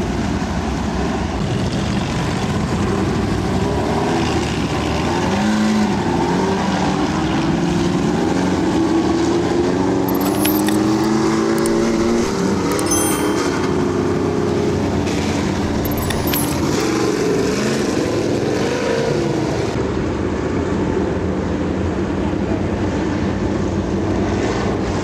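Dirt late-model race cars roar around a slick dirt speedway at Smoky Mountain Speedway, a continuous loud engine drone rising and falling as cars pass, with brief higher whines from passing machines.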